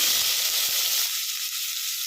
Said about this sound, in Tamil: இப்போ இதில் ஒரு பெரிய வெங்காயத்தை நறுக்கி சேர்த்துக்குவோம்